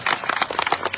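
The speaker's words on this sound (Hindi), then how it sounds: "इसके लिए इस पूरी टीम को जोरदार तालियों से स्वागत करने की आवश्यकता है" Brief, dense patter of many hands clapping, loud and close, as a crowd applauds a team of women officers from Khagaria district.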